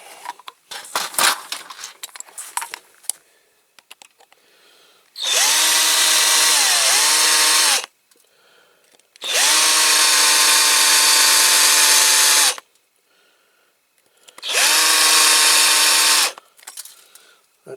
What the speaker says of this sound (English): now I need to drill these two rivets out here